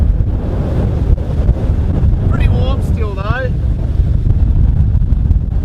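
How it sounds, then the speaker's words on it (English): Steady wind roar buffets the microphone with a low rushing wash of waves on the open Atlantic aboard a sailboat; a person speaks briefly partway through. "it's got pretty windy, and the waves have picked up"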